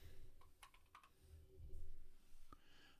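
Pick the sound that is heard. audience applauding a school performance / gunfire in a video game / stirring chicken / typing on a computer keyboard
typing on a computer keyboard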